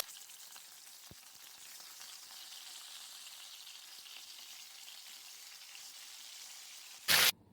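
Tilapia pieces fry in oil over a medium flame with a soft, even hiss and faint crackle, fairly quiet throughout, ending in a sudden loud burst.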